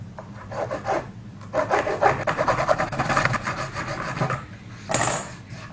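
Hand sawing through a Dutch teak pallet board: rough, rhythmic rasping strokes close up, pausing near the start and swelling again toward the end.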